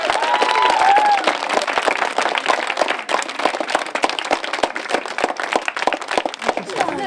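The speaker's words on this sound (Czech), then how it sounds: "pojďme jim společně zatleskat." An audience at a summer camp gathering applauds with loud, dense clapping that stays steady and close for the whole stretch, with no pauses.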